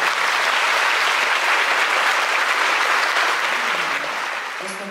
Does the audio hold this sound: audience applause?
yes